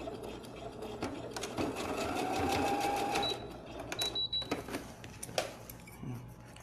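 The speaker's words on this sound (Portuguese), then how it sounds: "Agora eu vou passar uma costurinha aqui pra poder cortar esse zíper" A sewing machine runs close by, stitching a short seam near the end of a zipper, with a steady whirring burst that stops, followed by light clicks and handling noises; a voice speaks faintly at times.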